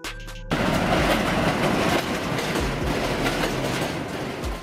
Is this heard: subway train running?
yes